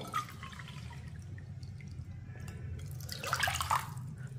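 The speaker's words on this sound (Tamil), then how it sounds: "இப்போ 2 கப்பு தண்ணி ஊற்றிக்கிட்டோம்." Two cups of water splash and trickle into a kadai nearby, rising to a fuller gush near the end over a low steady background hum.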